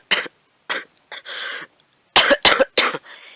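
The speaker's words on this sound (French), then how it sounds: "Excusez-moi pour la toux" Someone coughs repeatedly, a series of short harsh bursts separated by brief silences, with a couple of quick coughs in a row near the end.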